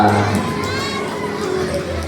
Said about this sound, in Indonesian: Coba kita beri tepuk tangan yang meriah untuk kelas 3A.